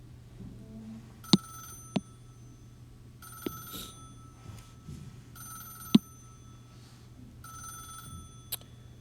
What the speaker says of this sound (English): Gotta love the phone ringing